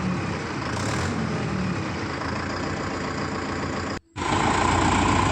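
A Mahindra Yuvo Tech Plus 585 DI tractor engine runs with a steady, loud diesel drone close by, briefly cutting out near the end before resuming at full volume.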